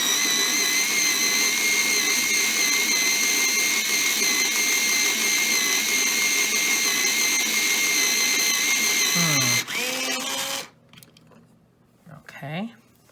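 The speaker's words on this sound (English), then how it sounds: "Just gotta sharpen it." A colored pencil grinds in an electric sharpener, a steady loud whirring drone that runs for several seconds, then cuts off, followed by quiet handling noises.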